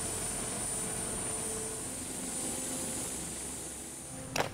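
Helicopter flying over navy frigates off Saint-Martin during humanitarian relief rotations after Hurricane Irma, a steady distant rotor and engine drone with hiss throughout, with a brief louder burst at the very end.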